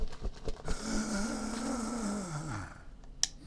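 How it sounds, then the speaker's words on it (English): A cartoonish snore from the PS1 video game SpongeBob SquarePants: SuperSponge, one long drawn-out rumbling breath that slides downward, followed by a short high chime. "Snoring."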